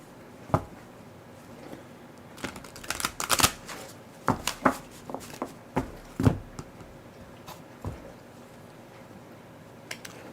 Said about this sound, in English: I'm going to pull a surrender card for us collectively.